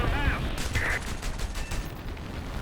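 A StuG III G tank gun fires in the video game War Thunder, with a loud, sharp blast at the start followed by rumbling battle noise and a faint voice.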